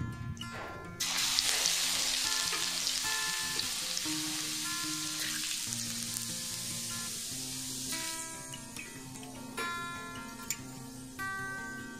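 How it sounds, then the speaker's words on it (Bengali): Grated garlic fries in oil left from frying fish, a steady, fairly loud sizzle running throughout under a tonal melody, with a few small clicks; no one speaks. "প্রথমে ঘষে রাখা রসুনটা দিয়ে দেব।"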